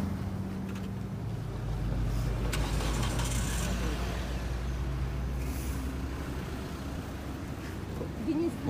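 A car pulling away from a road accident scene, a loud close engine rumble that builds and holds steady, with people talking over it.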